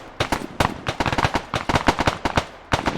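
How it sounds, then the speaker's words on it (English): Gunfire in the video game Task Force Aegis: a dense, uneven volley of sharp shots cracking in quick irregular succession, loud and close, with almost no talk over it. "Bullets flying."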